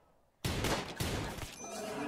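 Sustained gunfire from a firefight in the RimWorld base game, a dense burst of shots that starts abruptly and keeps going as loud continuous rattling, with a few tonal game sound effects mixed in near the end.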